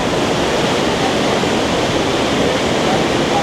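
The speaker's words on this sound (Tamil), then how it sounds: "தண்ணி சாரல் பயங்கரமாக அடிக்குதுங்க." Waterfall in Switzerland swollen by spring snowmelt, throwing heavy spray; a loud, close, continuous broadband roar with no breaks and no voices.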